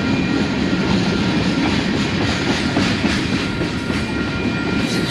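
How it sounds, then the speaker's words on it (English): A short Union Pacific freight train rolls past close by, with a loud continuous rumble and rhythmic clatter of wheels on the rails. "Man, this train is short."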